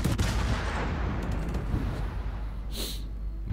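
Naval shells striking ships in World of Warships, heard as a heavy rumbling barrage of booms and explosions with a bright crash late in the burst.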